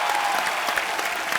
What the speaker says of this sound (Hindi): एक बार जोरदार तालियां हो जाए इरफान भाई और जिमी बाजी के लिए